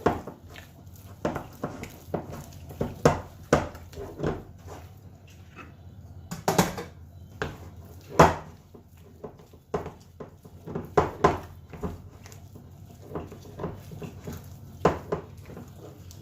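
Chicken pieces are tossed with spices in a bowl, giving a long run of soft wet pats, squelches and light knocks in an uneven rhythm, close and moderate, with no speech.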